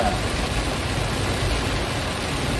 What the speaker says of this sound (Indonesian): Hujan lumayan deras